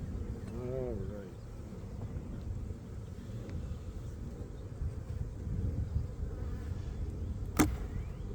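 Agitated honeybees at an opened hive, a faint low buzzing drone throughout, with quiet handling noises and a brief sharp click near the end.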